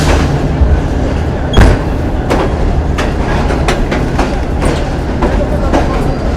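A Green Line express train running from Karachi to Lahore, with a steady loud rumble of wheels on track and repeated sharp clicks and clunks of rail joints.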